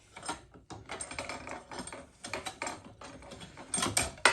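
A Big Green Egg XL rotisserie fork being cranked tight on the spit gives a run of uneven ratcheting mechanical clicks and metallic scrapes, close up and fairly loud, with no talking.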